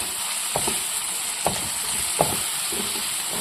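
Onions sautéing in a pan for prawn biryani: a loud, continuous sizzle and hiss with a few clear spatula scrapes at irregular intervals, and no voices.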